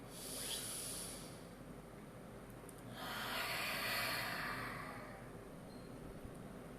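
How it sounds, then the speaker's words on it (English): A slow, deep breath drawn in close to the microphone, a soft airy hiss that swells and fades, followed by a second breath. "Take a deep breath in."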